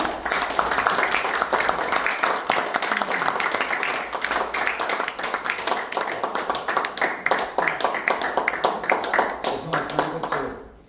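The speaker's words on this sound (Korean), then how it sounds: "큰 박수로 환영해 주시기 바랍니다" A forum audience claps steadily for about ten seconds to welcome a guest lecturer, a dense wash of many hands with faint voices underneath, fading out at the end.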